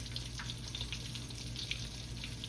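Shrimp fry in hot oil for restaurant-style crispy fried shrimp, giving a steady, faint, close sizzle with small pops scattered through.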